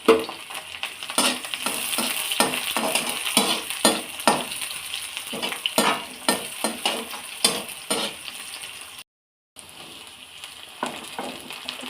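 Carrots and broccoli stir-frying with garlic and onion in a pan, a steady sizzle broken by repeated scraping stirs with a utensil, close and fairly loud, with one brief dropout near the end and no talk.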